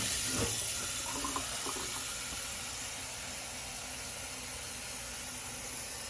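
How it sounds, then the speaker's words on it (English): Water trickles through a Brita long-lasting water filter, a steady faint hiss of flow continuing alone with a few soft splashes early on. "Water is kind of dripping."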